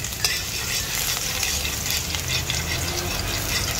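Ginger frying in hot cooking oil in a home kitchen, with a steady continuous sizzle and occasional stirring scrapes throughout, fairly close and without talk.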